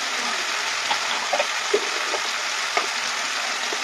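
Onion and mustard paste with chili and Kashmiri chili powder sautés in a hot pan, a dense continuous sizzle close by, dotted with faint clicks and scrapes from stirring.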